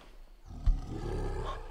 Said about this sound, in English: I think it sounded like a lion.